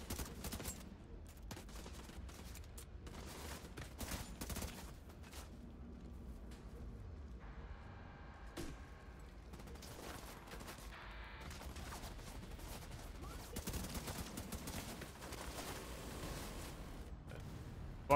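Dense, continuous gunfire from a turret in The Division 2, a steady rattling barrage running the whole time with bursts and impacts layered over one another, loud and busy with no pauses.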